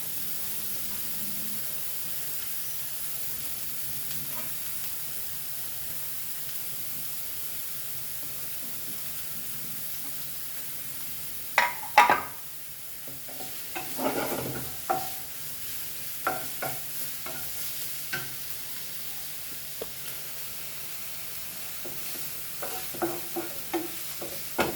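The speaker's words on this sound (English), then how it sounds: "fry this onion nicely" Onions sizzle quietly in a pan for a long stretch, then a spoon stirs them through, giving irregular scraping and clattering bursts over the steady frying hiss.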